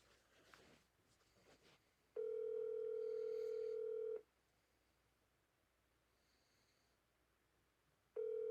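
Outgoing telephone ringback tone from a phone call: two long, steady beeps several seconds apart, the second cut off at the end, with quiet room noise and faint murmurs between.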